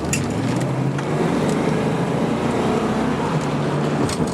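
A 1972 Mercedes-Benz 280SE 4.5 W108 runs with a steady, continuous engine drone and road rumble heard from inside as it accelerates, with no voices over it.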